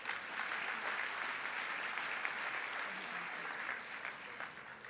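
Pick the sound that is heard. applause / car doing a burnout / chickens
applause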